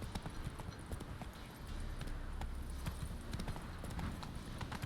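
Hooves of the horse Roach in The Witcher 3, a steady clip-clop of repeated hoofbeats at a trotting pace, moderately loud over a faint background of game ambience.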